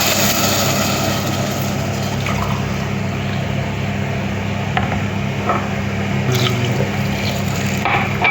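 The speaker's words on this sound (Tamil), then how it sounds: "நம்ம தண்ணி ஊற்றிடுவோம்." Hot water poured into a cooking pot while making Irani rice, a steady continuous rushing splash lasting several seconds, close and fairly loud with faint clinks near the end.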